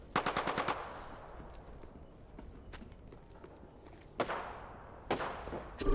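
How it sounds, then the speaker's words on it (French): Gunfire in Apex Legends opens with a quick burst of about six sharp automatic shots, then falls quiet before single loud cracks and a final short burst ring out amid faint background noise. "Je me fais tirer dessus"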